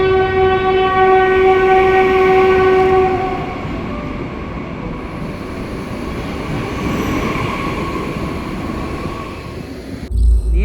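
A MEMU commuter train pulls out of Renigunta station, its horn blaring in long steady tones over the first few seconds before the loud rumble of the moving carriages carries on alone.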